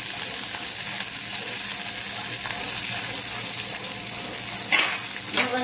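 Green chillies, coriander and curry leaves crackle and sizzle steadily in hot oil for a tempering of mustard seeds, a dense close frying hiss with a couple of sharper pops near the end.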